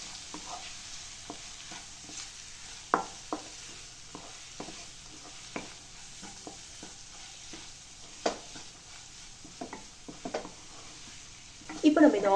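Tomato thokku with chili powder is stirred in a hot pan. A soft, steady sizzle runs throughout, broken by light, irregular scraping and tapping of the spoon, with a louder clatter at the very end.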